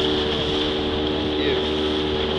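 A steady motorboat engine drone hums throughout on the crossing to Boipeba island, with wind and water hiss underneath.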